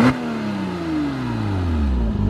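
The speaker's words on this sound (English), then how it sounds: "a couple revs and a little takeoff" A Porsche Cayman S engine revs loudly close by, its pitch sweeping downward smoothly as the revs fall away over about two seconds after a sharp initial blip.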